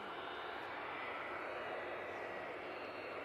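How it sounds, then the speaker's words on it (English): An Aer Lingus airliner taxis at Manchester Airport, giving a faint, steady distant engine whine and broad roar that continues evenly with no talking. "Aer Lingus has crossed over to 3 right, making its way over towards us, and the Gulf Air is right behind it."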